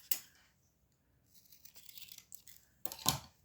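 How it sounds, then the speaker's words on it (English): Small children's scissors snip around a paper stamp cut out of scrap, giving quiet, close crisp cuts and rustles, with a louder crunchy snip near the start and another near the end. "Then you've probably got a pair of these scissors we used as kids, and you just cut around it,"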